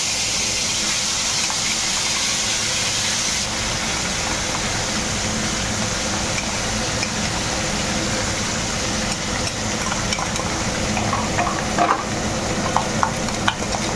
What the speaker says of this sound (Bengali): এবার হচ্ছে আমি তেলের মধ্যে পেস্ট করা মশলাটা দিয়ে দিলাম।